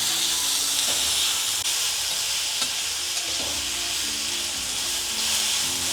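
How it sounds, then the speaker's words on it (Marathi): Onion and tomato roasting in a little oil for a katla fish curry, a steady close sizzle and hiss with faint stirring taps and scrapes. "थोडंसं तेल टाकले मी भाजण्यासाठी"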